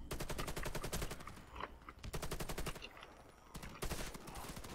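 Rapid bursts of close-range automatic gunfire in the Warface shooter game, several sharp sustained volleys separated by short pauses, loud and alone.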